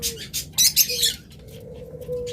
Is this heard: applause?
no